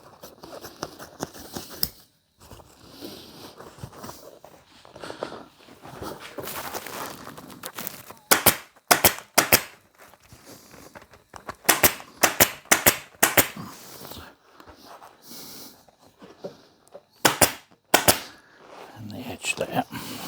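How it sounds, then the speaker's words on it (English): A staple gun fires upholstery fabric onto a chair arm about half an inch above the bottom of the seat rail. It gives loud, sharp, close snaps, single and in quick clusters, with quieter handling rustles between. "Staple it about half an inch up from the bottom of the seat rail."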